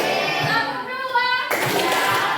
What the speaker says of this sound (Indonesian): Ya, tepuk tangan kita semua